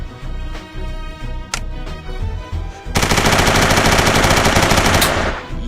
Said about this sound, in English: Fire this bad boy. Now we gotta switch it to auto.